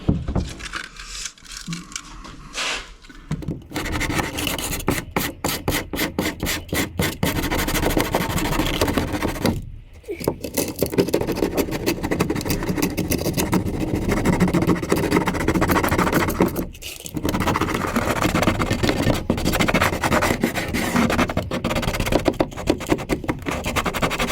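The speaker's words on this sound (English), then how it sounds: "sand out this crack along here, and I've picked a 60 grit" A crack in a plastic boat is roughed up by hand with coarse 60-grit sandpaper, giving a close, steady scratchy rasping with rhythmic strokes and brief pauses, with no voices.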